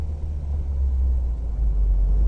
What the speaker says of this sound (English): I'm going to stop the car and then I'm going to start out in second gear